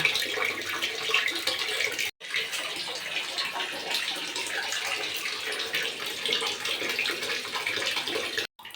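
Water pours steadily into a container in a household setting, a continuous close splashing rush with two brief breaks when the flow stops and restarts.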